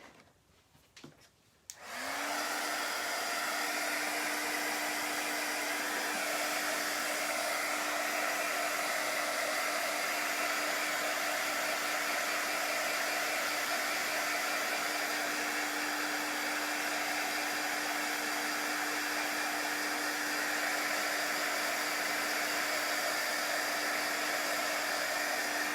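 A hair dryer starts after a short pause and then blows in a loud, steady, unbroken whoosh with a faint whine, drying chalk paste on a gnome craft project.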